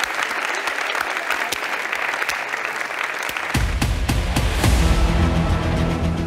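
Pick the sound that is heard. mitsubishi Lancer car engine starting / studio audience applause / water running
studio audience applause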